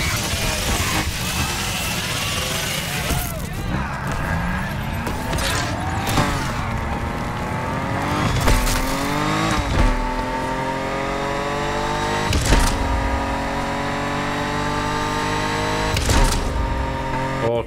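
Drag race cars in the game NFS Unbound rev hard and accelerate through repeated gear shifts, with engine pitch climbing and dropping in loud, close surges and a brief tire squeal.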